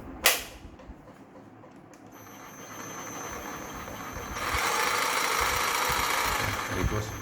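A reconditioned Ryobi reciprocating saw starts with a sharp click, then runs with a buzzing, vibrating mechanical drone that grows steadier and louder, close to the microphone.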